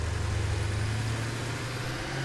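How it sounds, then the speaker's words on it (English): Steady engine drone of a tractor driving in the video game Satisfactory, a low rumbling hum held at even loudness throughout with no talk over it. "Run him right over with my tractor."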